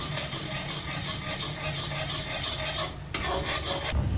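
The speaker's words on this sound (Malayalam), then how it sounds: "എന്നിട്ട് നന്നായിട്ട് ഇളക്കി യോജിപ്പിക്കുക." A spoon stirs a thickening sweet mixture of ground peanuts and cashews in a pan, a steady close scraping and bubbling hiss that runs without a break, with one brief knock near the end.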